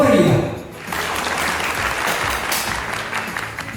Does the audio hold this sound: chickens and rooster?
no